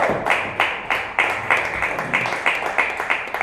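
Clapping from an open mic crowd in Jamestown, NY: about a dozen sharp claps in a steady, even rhythm, close and loud, that sound like only a few hands, with no talking.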